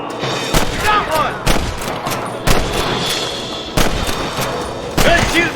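Red Dead Redemption gunfire rings out in loud, sharp single shots spaced roughly a second apart, each with a booming tail, while voices and game sounds murmur underneath.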